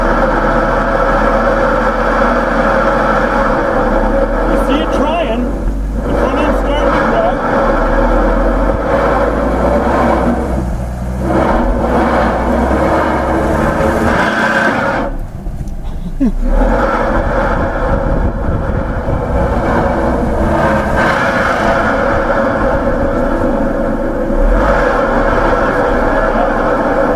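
A car with quattro all-wheel drive strains to drive out at a comparison event. Its engine makes a loud, continuous, close drone that swells and dips briefly a few times as torque shifts.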